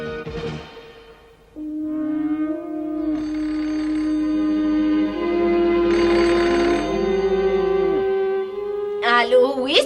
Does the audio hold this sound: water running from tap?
no